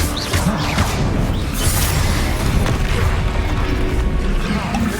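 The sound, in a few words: Bombarda explosion spell cast in a video game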